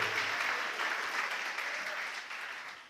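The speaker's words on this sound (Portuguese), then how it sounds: "Você pode aplaudir o Senhor" A church congregation applauds during a sermon, a steady, moderately loud wash of clapping from many hands that slowly thins over a few seconds.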